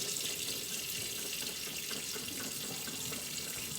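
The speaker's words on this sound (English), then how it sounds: "I'm going to rinse the chickpeas, and I usually do it in the can. Then I just rinse them around." Tap water runs steadily into an open can of chickpeas as they are rinsed, a continuous close hiss and splash lasting throughout with no talk.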